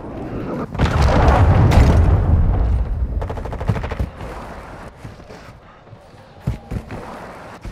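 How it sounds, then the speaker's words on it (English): A cruise missile explosion in a video game, a loud, rumbling blast that swells and lingers for a few seconds, followed by quieter sharp impacts and clatter. "Hostiles launched a cruise missile."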